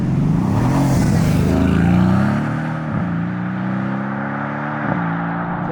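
A Mercedes C63 V8 sweeps past loudly with a deep burbling engine note, rising as it nears and then falling away, with small crackles as it recedes.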